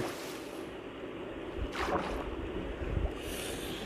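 A boat glides over water in the Minecraft video game, a soft continuous wash of lapping and rushing water with a brief swishing surge in the middle.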